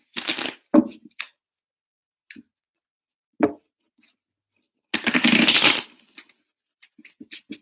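Tarot cards are shuffled in short bursts, a crisp riffle, scattered taps and small clicks, then a longer ruffling shuffle, all close and alone with no talk.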